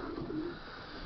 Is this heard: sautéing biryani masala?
no